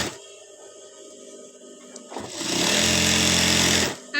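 Sewing machine stitching the side seam of a kameez: a quiet stretch, then the motor whirs up into a loud, steady stitching run of about a second and a half before stopping abruptly.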